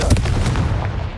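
Confringo blasting spell cast in Hogwarts Legacy, a dense booming burst with a sharp crack at the start that rumbles on for about a second, loud and close, no voices.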